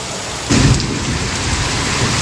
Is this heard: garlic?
no